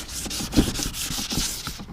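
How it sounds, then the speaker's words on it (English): Sandpaper scrubbing Honda ATV plastic wetted with Simple Green, a close, steady back-and-forth rasp in quick rhythmic strokes with no talking. "you just put a little simple green, and then rub it with the sandpaper"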